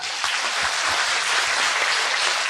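Loud, continuous clapping from a lecture audience at a Korean talk, a thick wash of many hands filling the whole moment without speech.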